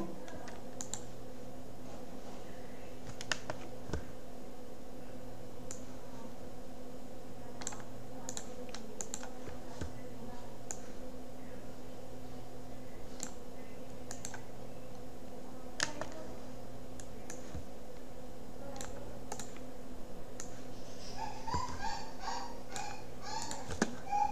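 Computer keyboard typing runs through a quiet room as scattered, irregular clicks and short bursts of keystrokes, with a faint steady hum underneath and a denser flurry of taps near the end.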